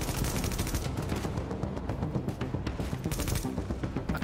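Rapid sustained gunfire in The Division video game, a dense stream of loud cracking shots firing close by in quick succession with no pause.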